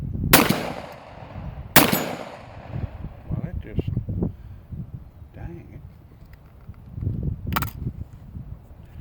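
A Stevens 12 gauge double-barrel shotgun fires loud sharp blasts outdoors, two close together near the start and a third later, with echoing tails, wind and someone talking between shots.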